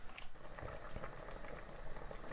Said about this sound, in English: And now we've brought that to a little bit of a boil.